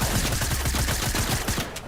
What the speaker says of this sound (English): I got a golden SMG.